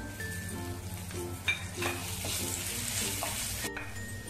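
Ground coriander, cumin, fennel and pepper along with crushed green chili paste fry in a ladleful of oil, a steady quiet sizzle with clinks of stirring throughout.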